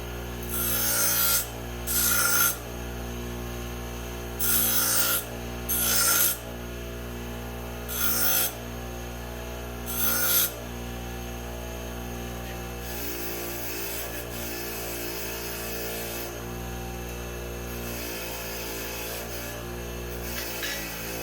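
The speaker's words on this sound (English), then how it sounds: "Let's go to the grinder." A grinder works a metal exhaust pipe for an Echo 590 HammerHead build, giving a steady rasping, rubbing drone with repeated loud bursts of contact in the first half, then a longer continuous grind without any talk.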